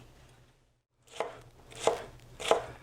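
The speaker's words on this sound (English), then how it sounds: "just take a knife, cube up that bread, and put it in the bottom of the dish" A knife cuts crusty bread into cubes on a board, with three crisp, crunchy chopping strokes following a short quiet pause, heard up close and alone.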